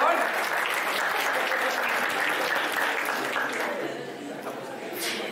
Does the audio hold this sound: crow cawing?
no